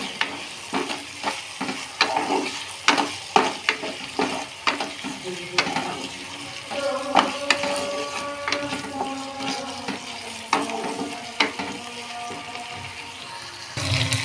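A spice paste of ground cumin, coriander, mixed spices and a little sugar is stir-fried in a pan for an egg and potato curry, with a soft sizzle under repeated rhythmic scrapes of a spatula, close and fairly quiet.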